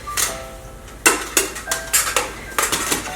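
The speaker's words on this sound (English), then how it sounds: "our Snow Peak titanium pots and pans" Snow Peak titanium camping pots and pans being opened and handled, giving a series of bright, light metallic clinks and rattles in quick irregular bursts, close up with no talking.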